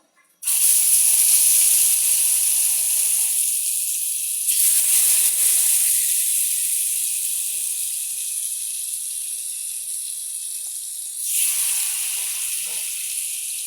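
Tilapia fish hits hot oil in a wok, setting off an abrupt, loud, sustained hiss and sizzle that holds steady for many seconds with a couple of brief swells, close and with no talking.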